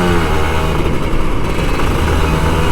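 An old Kawasaki Ninja RR 150 motorcycle is ridden at full throttle, its engine a loud, dense, continuous roar close by that holds steady with slight wavering throughout.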